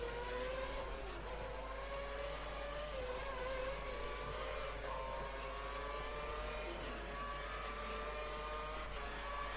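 A Formula 1 car engine in the F1 2013 racing game at an Australia practice session drones steadily at high revs, its pitch shifting slightly through gear changes and throttle, continuous and loud with no talk.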